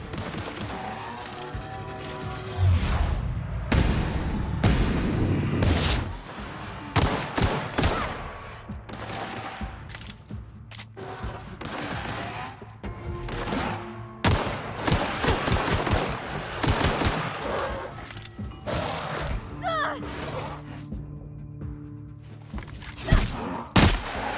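Sustained gunfire in the video game The Outer Worlds as enemies are shot, with rapid volleys and bursts of shots, some thudding impacts and brief gaps, loud and close, with no speech.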